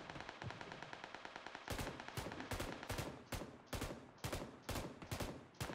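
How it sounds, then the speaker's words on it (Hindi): Burst fire from an M249 in PUBG PC Lite, fired while crouched: rapid clusters of loud, punchy shots in a steady rhythm, following a faster stream of softer rattling rounds. "ये देखो मैंने यहाँ क्राउच करके M249 पर बर्स्ट फायर कर रहा हूँ"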